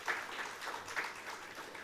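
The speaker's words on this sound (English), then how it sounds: "A round of applause for that wonderful session." An audience at a startup session applauds with a light, fairly faint patter of clapping that holds steady for a couple of seconds.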